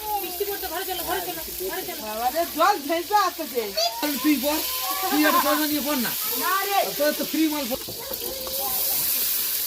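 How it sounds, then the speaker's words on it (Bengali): Tomatoes and five-spice fry in oil with a steady close sizzle running under a person talking throughout. "তেলে 5 ফোড়ন দিয়ে তারপরে টমেটো দিয়ে দিয়েছে"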